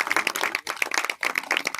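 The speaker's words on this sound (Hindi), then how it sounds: "जोरदार ताली बजाकर स्वागत करो।" Brisk, continuous clapping from an outdoor crowd at a village Ambedkar Jayanti celebration, with many overlapping hands at moderate loudness and brief dips in the rhythm.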